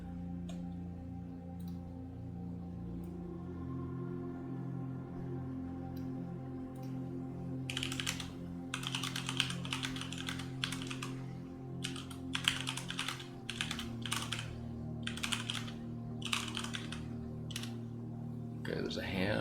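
Computer keyboard typing in bursts of quick clicks, with pauses between them, close and fairly quiet over a low steady background hum.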